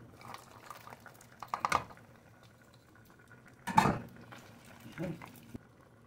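Chicharon from Carcar, Cebu is stirred into a pot of tuna stewed in coconut milk, with a few soft scraping and clinking bursts of a spoon against the pot over a quiet simmer.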